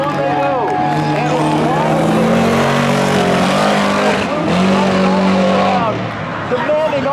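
Spectator drag race at a Halloween thrill show: a V8 car and a four-cylinder all-wheel-drive SUV roar off the line with rising engine notes and squealing tires, loud and close, alongside a voice.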